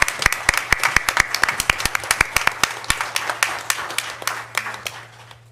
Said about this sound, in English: So truthfully, we need to give you all a round of applause.